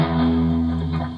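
Electric guitar played through an amplifier's modern channel, a tight, focused distorted tone with a sustained chord ringing loud and steady, alone with no talk, slowly fading slightly toward the end.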